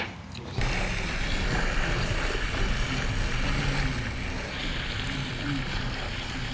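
A boat in the Roblox game glides toward the desert, making a continuous broad rush of water and wind noise that stays loud and even throughout after a short quieter opening.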